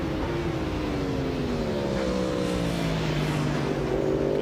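Racing motorcycles roar out on a formation lap at the Imatranajo road race, a sustained engine drone whose pitch slowly falls, steady and moderately distant.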